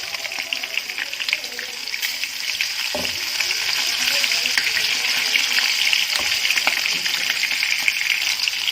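Long-sliced green chilies fry in a pan while cooking Kashmiri mutton, giving a continuous bright sizzle. The sizzle swells after a sharp knock about a third of the way in and stays loud and steady to the end.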